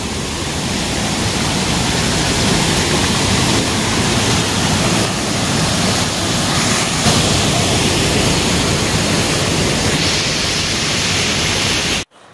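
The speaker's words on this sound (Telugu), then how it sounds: "హెవీగా ఉన్నది వాటర్ ఫ్లో." Heavy water rushes through a channel of the ancient chain-linked lakes near Bhadrakali lake in Warangal, a loud, continuous roar of churning flow that holds steady for about twelve seconds and then cuts off abruptly.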